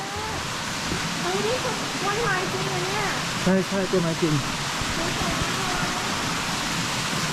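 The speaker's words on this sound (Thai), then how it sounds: "อ๋อเสียงมันคือตรงนี้เสียงมาจากตรงนี้น้ำตก" Steady rushing water from an artificial waterfall pours nonstop in the background, a broad even hiss, while people talk over it.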